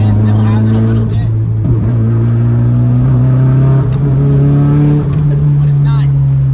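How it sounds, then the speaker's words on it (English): A Toyota or Nissan car engine hums steadily on a test drive just after an O2 sensor replacement, loud and close from inside the cabin, pitch rising and dipping slightly with throttle changes. "This is the first test drive with the new O2 sensor on."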